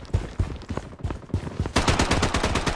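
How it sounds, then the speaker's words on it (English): Rapid gunfire in the mobile shooter BloodStrike, sharp repeated shots in quick bursts, the last second turning into a dense, loud sustained volley close by, with no talk over it. "Taking fire! Taking fire!"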